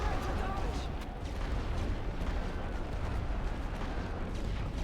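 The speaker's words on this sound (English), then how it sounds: "Get in that trench before the artillery hits" Artillery shells land in the WWI game The Great War: Western Front, a dense, continuous rumbling barrage of blasts and booms that fills the scene at steady loudness without letup.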